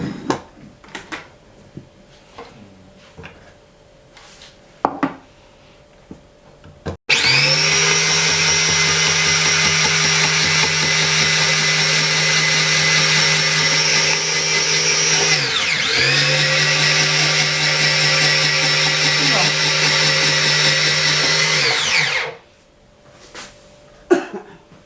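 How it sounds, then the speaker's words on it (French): A food processor slices carrots into rounds for a beef daube, whirring loud and steady for about fifteen seconds with a slight dip midway, then spinning down abruptly, with quiet kitchen clatter before and after. "Donc ça va faire un peu de bruit, c'est normal. C'est que là je vais couper en rondelles mes carottes."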